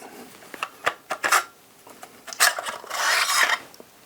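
The barrel of a Mossberg 940 Pro Tactical SPX shotgun slides forward and off during disassembly, making close metallic clicks and scrapes, then a longer grinding slide of metal against metal.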